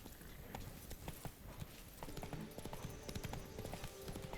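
Roach the horse clip-clops along in The Witcher 3, a steady, close run of hoof strikes with a quickening rhythm in the second half, over a low background bed.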